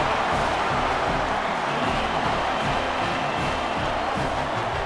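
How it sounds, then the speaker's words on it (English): Broad, steady stadium crowd roar after a Scarlet Knights touchdown in EA Sports College Football 27, a loud sustained wash of cheering with no pauses. "This crowd absolutely loving it as he rolled into the end zone"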